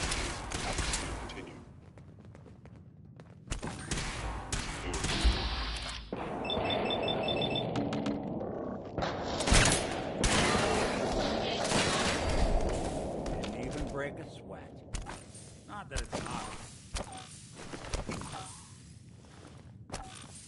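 Bursts of gunfire from the video game Fallout 4, with several shots and impacts scattered across a busy game soundtrack, while someone talks over it.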